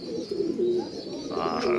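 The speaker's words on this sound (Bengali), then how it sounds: "দেখুন এই একটা পায়রা এসে বসে রয়েছে" A pigeon sitting nearby gives a soft, continuous throaty cooing, close and steady, with no talking.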